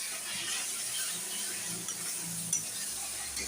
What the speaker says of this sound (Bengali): এবার এটা ভালো করে নাড়তে থাকবো।